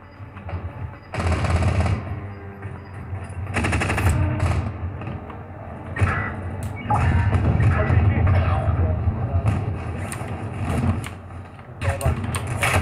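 First-person shooter gunfire: rapid automatic bursts recur across the clip, loud and sharp, each lasting about a second or more. Someone talks in Turkish between the volleys.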